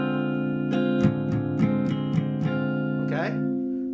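A sustained electric guitar D half-diminished chord rings, with several evenly spaced picked or strummed attacks, then fades as a brief voice enters near the end.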